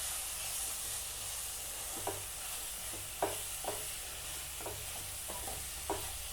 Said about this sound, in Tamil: குடமிளகாய் ஒரு 5 நிமிஷம் நல்லா ஃப்ரை ஆகணும்